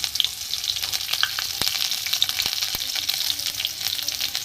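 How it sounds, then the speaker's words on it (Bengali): Chopped garlic sizzles steadily in hot oil tempered with dried red chilli and whole cumin, a dense continuous frying hiss with a few sharp spatters and faint stirring clicks, close and loud, no voices. "ফোড়নটা হয়ে গেছে, এখানে প্রথমে রসুন কুচিটা দিয়ে দেবো"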